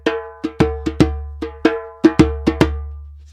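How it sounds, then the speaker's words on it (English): A bass dahola, a large darbuka goblet drum, plays an Iraqi rhythm in about a dozen close, crisp strikes. Ringing pitched tones mix with sharp slaps in an uneven, lilting pattern, with no voices. "For this video, I'm going to play it on a bass dahola."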